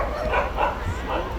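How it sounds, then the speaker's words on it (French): Sled dogs barking and yipping at a winter sled-ride event, several dogs overlapping in a continuous noisy chorus at mid distance over steady background ambience. "les chiens de traîneau sont de retour"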